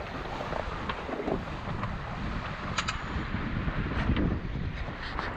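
Steady, fairly loud wind buffets the microphone on a sailing yacht (D10 Belladonna) racing round Britain and Ireland, with water rushing along the hull and a few brief splashes; there is no talk.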